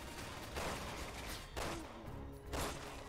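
Gunfire crackles in a Resident Evil 6 fight, three distinct loud bursts spaced about a second apart over a steady noisy background.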